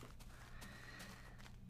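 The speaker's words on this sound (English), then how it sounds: "I said hi to the horse, and then he said hi back in horse talk" A horse in the Minecraft Mo' Creatures mod gives a clear whinnying neigh, sounding alone, with soft clip-clop hoofbeats at quiet game volume.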